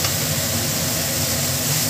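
Masala spice paste sizzles steadily in hot oil for egg biryani, a close, continuous frying hiss with no break.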